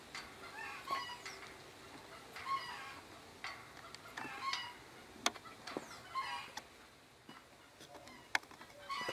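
Farmyard chickens cluck in short, scattered bursts on a small rural plot on a hot day, some calls near and others farther off, over a quiet outdoor background.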